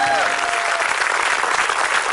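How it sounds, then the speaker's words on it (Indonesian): Studio audience at an Indonesian TV game show bursts into steady, dense applause that fills the whole moment, close and loud with crowd noise mixed in. "Tepuk tangan dulu dong."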